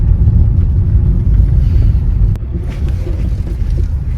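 A Tata Altroz XZ Plus climbs an incline and its engine gives a steady, loud low rumble from inside the cabin. A brief click breaks in near the middle, and no one speaks.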